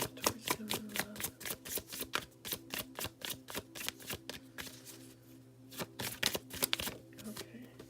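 Tarot cards are shuffled by hand close up in a quick, rhythmic run of crisp riffles and snaps that pause briefly partway through, then continue.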